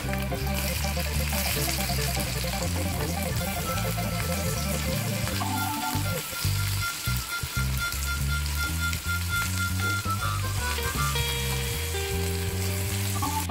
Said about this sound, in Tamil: இதை மீடியம் ஃப்ளேமில் ஃப்ரை பண்ணிக்கலாம்